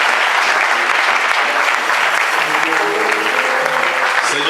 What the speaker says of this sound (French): Acclamons pour le roi de roi.